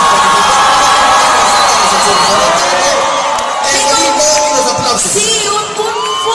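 Big concert crowd at a live show in Puebla screaming, whooping and cheering loudly, a continuous roar of many voices with high shrieks rising over it.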